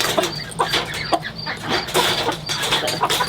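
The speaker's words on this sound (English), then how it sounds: "Go, chickens." Chickens clucking continuously and loudly up close, a busy overlapping chorus of short clucks and squawks with no pause.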